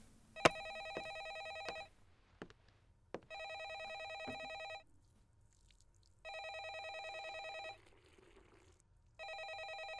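A telephone rings repeatedly in a quiet horror video game scene, with four long electronic ring bursts separated by silences and a few sharp clicks and knocks near the start.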